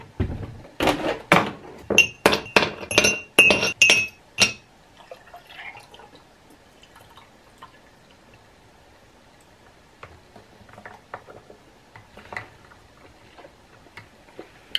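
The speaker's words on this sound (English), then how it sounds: "let's go ahead and make some dang whipped coffee, because I'm thirsty and I want my coffee" Whipped coffee mixture being stirred in a glass, with a run of quick, close clinking and ticking strokes for about four seconds, then fainter scattered taps and small liquid sounds.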